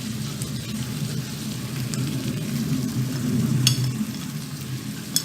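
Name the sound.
chicken frying in oil with powdered spices added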